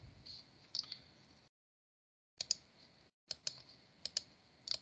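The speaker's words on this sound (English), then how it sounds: "He's typing right now, Mark." Soft, uneven clicks of typing on a computer keyboard come in short bursts separated by pauses, quiet and close in an office setting.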